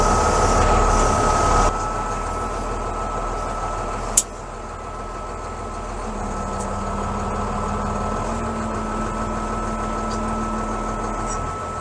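A YTO NLX 1404 tractor with a hydraulic seeder for sunflower sowing runs steadily at close range, its engine a continuous rumble with a faint whine. A sharp click lands near the middle, and a low hum rises later.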